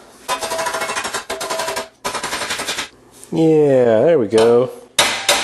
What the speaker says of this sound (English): bashing into it with a hammer